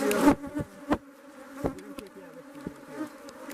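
Honey bees buzzing around a hive in a steady drone close by, with small bumps and taps as insects brush past, no talking.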